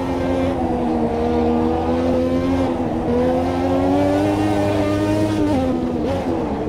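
A Lotus 98T Formula One car in a racing video game, its engine held at high revs in third gear with a steady loud whine, shifting in pitch through a turbo-boosted section.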